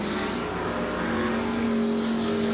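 Street stock race cars roar down the main straightaway at Freedom Raceway during a 1993 race, a steady loud engine drone with a sustained tone, heard from close by with no talk over it.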